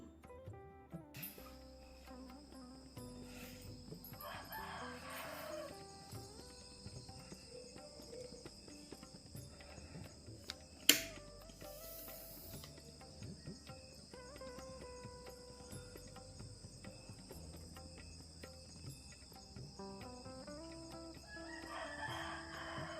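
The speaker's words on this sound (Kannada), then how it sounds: "ಬರೀ ಕೋಳಿಗಳು ಕೂಗ್ತಾ ಇರೋಂಥ ಸೌಂಡು ಹಾಗೆ" Roosters crow repeatedly in the dark before dawn outside a house, several calls near and far over a steady bed of chirping crickets and insects, with a brief sharp knock partway through.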